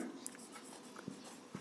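Pen or chalk writing out a geometry statement, a soft continuous scratching with a few faint taps and strokes over steady room noise, close and quiet, with no one talking.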